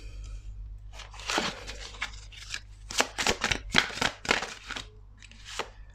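Tarot cards handled, shuffled and turned over at close range, a run of crisp papery riffles and slaps in quick clusters with brief pauses between them, over a low steady hum.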